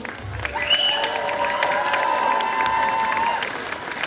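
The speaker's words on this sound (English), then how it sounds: "Ladies and gentlemen, can you give everyone a big round of applause?" A crowd applauds winners at a convention stage, with steady clapping mixed with cheering and a few whoops. A sustained tone runs through the middle.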